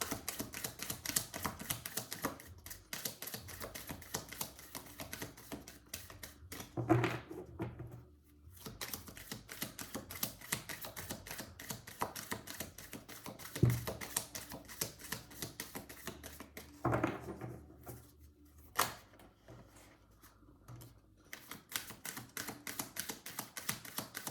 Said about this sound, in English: Shuffling for Virgo.